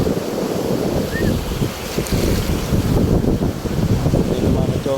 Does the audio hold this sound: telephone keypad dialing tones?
no